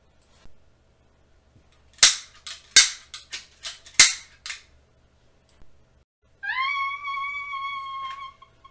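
Sharp gunshot-like cracks, a run of about eight snappy pops close together, followed by a high tonal whine, loud against near silence.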